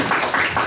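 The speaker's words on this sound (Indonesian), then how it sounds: "Tepuk tangan dulu dong" Audience applause at a student association cadre training session for an environmental engineering program, a short burst of dense steady clapping with no voices.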